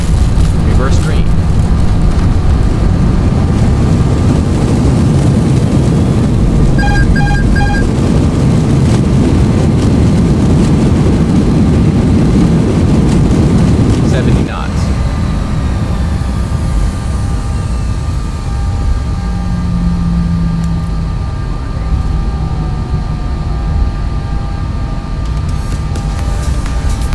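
Airliner engines in reverse thrust after landing in X-Plane 11, a loud sustained roar that drops off abruptly and settles into a lower rumbling rollout while a voice speaks over it.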